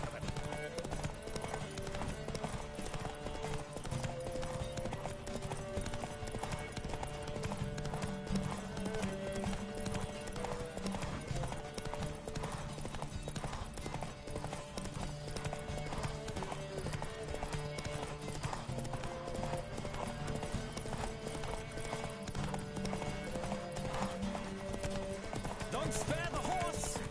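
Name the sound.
galloping horse hooves in a horse race, Witcher 3 video game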